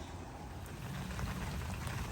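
Steady rain falling outdoors beside a beehive, a continuous dense hiss of drops throughout, fairly faint and with no voices.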